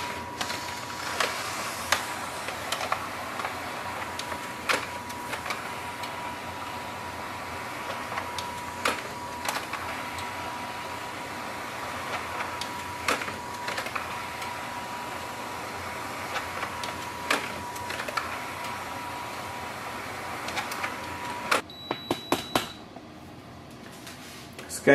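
A Canon imageCLASS MF654Cdw color laser printer scans pages, running a steady mechanical whir broken by regular clicks and clunks, then stopping with a few sharper clacks near the end.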